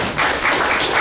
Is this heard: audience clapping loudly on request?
yes